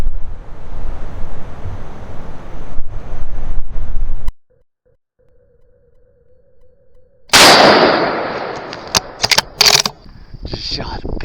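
A deer hunter's rifle fired on Florida public land on a windy day: wind noise, then a sudden near-silent gap, then a single loud, sharp blast with a decaying tail and a few quick rattles after it.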